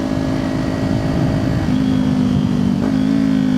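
A motorcycle engine, ridden with GP shift, drones steadily and loud up close. Its pitch steps down twice as the rider downshifts.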